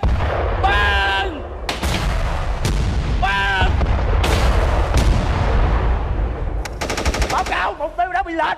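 Artillery firing at a bridge target in a comedy skit: loud booming shots and rapid gunfire bursts fill the clip, with shouted voices and whistling tones over the blasts.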